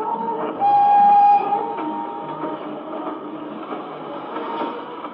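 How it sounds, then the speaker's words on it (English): A train rumbles steadily along the rails with a brief whistle near the start, the noise rolling on without voices. "That train's perfectly on time."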